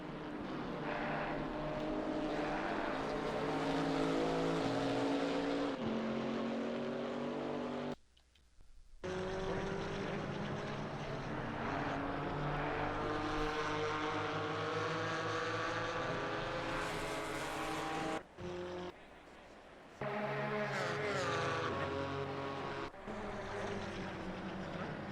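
GT4 race cars, a Chevrolet Camaro chasing a BMW, racing on a wet Brands Hatch circuit, their engines a loud sustained roar with rising and falling pitch as they pass, with brief dips in the noise between cars.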